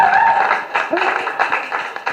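An audience claps for Nakul at the inauguration of a dance school, a dense, steady patter of applause mixed with voices and cheering throughout.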